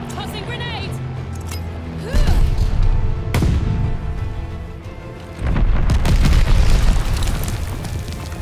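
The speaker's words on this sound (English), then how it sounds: "Tossing grenade!" Grenade explosions in the multiplayer shooter Call of Duty: Vanguard, two loud booming blasts with rumbling tails, set against game battle noise, with voices calling out.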